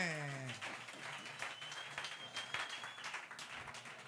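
A church congregation breaks into applause after a brief sung or spoken tone, and dense clapping fills the room steadily and fairly loudly until the end.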